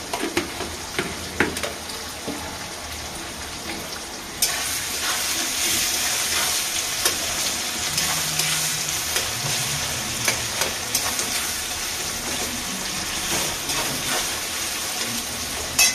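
Tomatoes frying with salt in a pan for a motor ghugni, a steady hissing sizzle that swells louder partway through, with scattered clinks and stirring scrapes nearby.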